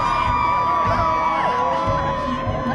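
A fight night crowd cheers loudly after a bout, making a steady wall of shouts and whoops that holds at a high level throughout without a break.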